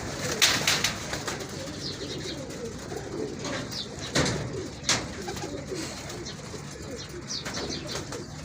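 Low cooing from a pigeon about 22 to 23 years old murmurs steadily amid outdoor ambience, with a few sharp clicks and brief flutters breaking through.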